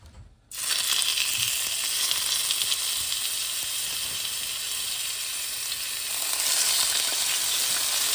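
Vegetable oil in a pan for lamb chops erupts into a loud, steady sizzle after a quiet start, a bright continuous frying hiss that swells slightly near the end.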